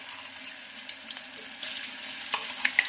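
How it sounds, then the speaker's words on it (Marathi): Green chili paste frying in three spoons of oil in a pan for a chicken curry, a soft continuous crackle and sizzle with small scraping ticks, close and moderately quiet, no voices. "पॅनमध्ये आपण तीन चम्मच तेल घातलेलं आहे आपण आता घालूया बनवलेलं वाटण"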